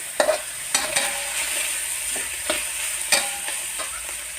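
Cabbage and minced pork stir-frying in a pan with garlic, a continuous close hiss of sizzling oil broken by a few sharp scraping stirs, with no talk.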